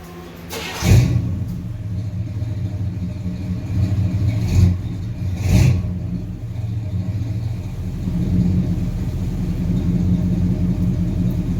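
A car exhaust fitted with Flowmaster Delta 40 or Cherry Bomb Turbo mufflers rumbles at idle with a few quick throttle blips, deep and close, the burble steady between revs.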